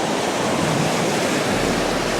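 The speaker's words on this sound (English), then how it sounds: "every now and then we get a little wave that comes over this rock" A small ocean wave washes over a coastal rock at sunset as a dense, steady hiss of rushing water, close and loud throughout with no voices.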